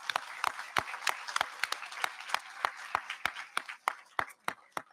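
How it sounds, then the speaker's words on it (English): An audience at a school 8th grade promotion ceremony applauds with crisp, separate hand claps at a steady, moderately busy rate, fairly close and alone without talk. "I'd like to ask our students to join me in a round of applause for our staff and for our families"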